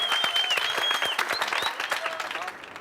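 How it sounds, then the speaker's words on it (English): A class of children applauding after a singing lesson in South Africa, a dense burst of close hand clapping with a few shouts that fades out toward the end. "Let's give Wandile a big hand"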